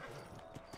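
Horse hooves clip-clop faintly in a Red Dead Redemption video game scene, a few soft hoofbeats as the rider mounts up, quiet and brief.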